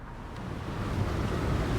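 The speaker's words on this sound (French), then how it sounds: "Et là, il y a du vent vers le haut." Wind blows outdoors in the climbing video game Jusant, a steady, full rush of air that builds slightly louder over the moment.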